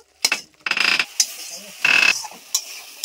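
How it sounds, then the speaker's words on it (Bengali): Ginger, turmeric and chili powder being stirred in a pan with a little water, several sharp scraping bursts of a spoon against metal separated by short pauses, close and fairly loud. "আদা, হলুদ, লঙ্কা গুঁড়ো একসঙ্গে আমি নেড়ে নেব।"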